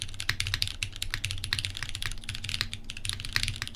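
Rapid typing on a GSK 910 mechanical keyboard with crisp, clicky keystrokes in an uneven rhythm, close and steady, with a low hum underneath.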